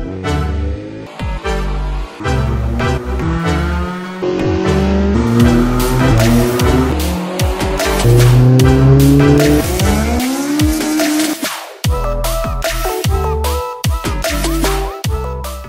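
A Honda with a D16A6 VTEC engine runs an autocross course, tires squealing repeatedly through corners as the engine revs and drops through gears, loud and close with no talk.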